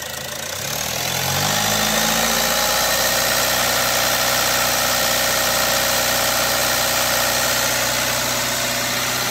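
A car engine dosed with No Leaky head gasket sealant catches and settles into a steady, droning run, its pitch rising briefly at the start before holding a constant, loud hum with light vibration.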